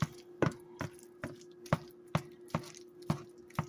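Steady knife strikes chopping scrambled eggs against a pan, about nine sharp taps in an even rhythm over a low background hum.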